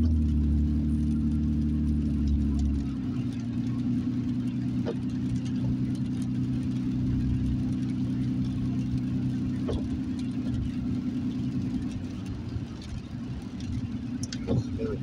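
Steady low engine rumble and road hum from a car being driven, loud and continuous with a gear or speed change near the start, no talk over it.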